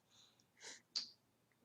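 A single soft sneeze from a man during a casual podcast chat, a short breathy intake then a sharp nasal burst, close but quiet and heard alone.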